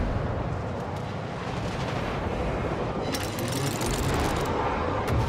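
A naval gun salvo striking a ship in World of Warships, heard as a dense, continuous roar of heavy shell impacts and explosions with rumbling low end and crackling bursts building in the later seconds, without speech.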